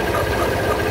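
A Hero Hunk 150cc motorcycle makes a steady mechanical rattling and clattering noise, pointing to a fault, while the clutch is held in. The sound is close, loud and continuous across one second, with no talking.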